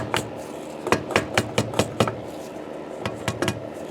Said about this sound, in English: We're going to very carefully kind of tap it into place. So I'll grab my other hammer here.